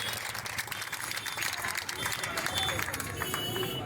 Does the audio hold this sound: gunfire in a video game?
no